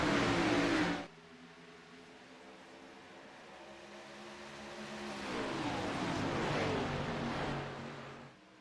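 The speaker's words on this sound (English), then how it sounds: "go green flag racing once more from Homestead-Miami Speedway" Stock cars race around Homestead-Miami Speedway in a racing video game: a loud opening burst drops to a steady, layered engine drone, then swells again midway as the cars pass.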